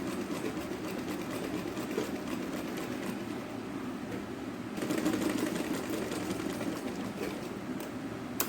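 A sewing machine runs steadily, stitching around a fabric circle for a rose-shaped latkan, with a continuous close, quiet mechanical whirr and a slight rise in intensity partway through.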